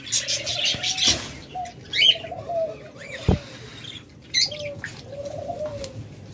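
Pet lutino birds, sold in pairs alongside lovebirds, cockatiels and budgerigars, give repeated short chirps and trills, some close and some farther off, with a few sharp knocks and brief wing flutters in between.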